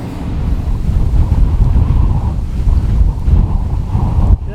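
Strong winter wind blasts across the microphone during a below-zero Kansas trapline check in snow, a loud, steady roar of low rumbling buffeting that continues throughout without speech.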